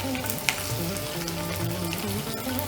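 Chopped onions frying in a mix of hot oil and ghee for Bengali doi chingri, a steady close sizzle with a brief stir clink near the start, no talking.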